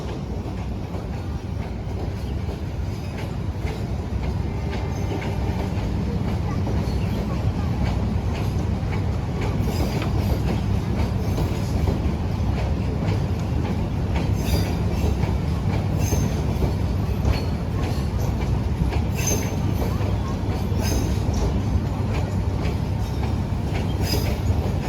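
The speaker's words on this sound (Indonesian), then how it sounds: "kita lihat kereta api Turangga dengan lokomotif CC 206-1398 BD ya, berangkat stasiun Bandung" The Turangga passenger train hauled by a CC 206 locomotive pulls out of Bandung station with a steady rumble and rhythmic wheel clatter. Faint squeals rise over the continuous rolling noise, with a little distant talk.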